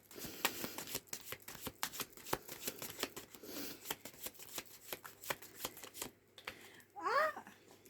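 Tarot cards from the Ethereal Visions deck being shuffled in a steady run of crisp riffles and slaps, close and fairly quiet, ending with a brief burst of higher chatter.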